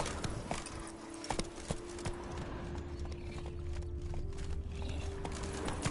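In Witcher 3, the horse Roach gallops with rapid, continuous clip-clopping hoofbeats over a steady rumbling bed and a faint tonal hum, close and fairly loud, with no talk.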